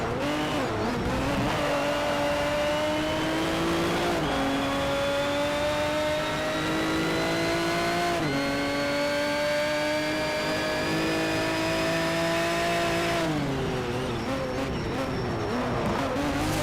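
Race car engine in Need for Speed Shift 2 racing game, loud and continuous with rising revs through gears, shift drops and a faint tire squeal, no talk over it.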